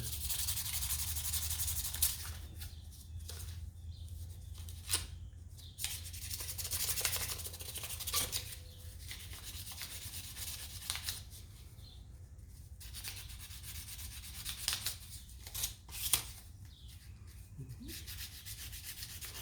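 A custom harp button is rubbed by hand on 500 grit sandpaper, giving close, soft, repeated scratchy strokes in uneven rhythm with short pauses throughout, alone without talk.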